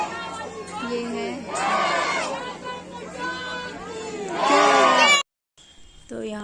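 A crowd at Maihar Sharda Mata temple fills the air with steady chatter and scattered children's shouts, swelling loudly twice before an abrupt drop to near silence.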